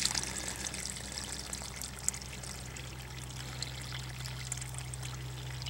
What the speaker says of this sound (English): So if we pour some more water into this neighboring hole here